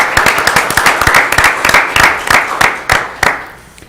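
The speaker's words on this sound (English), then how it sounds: "So how about a round of applause for our incoming leaders?" An audience at a school district governing board meeting applauds incoming board members, giving steady, dense clapping that stays loud and close for a few seconds before tapering off.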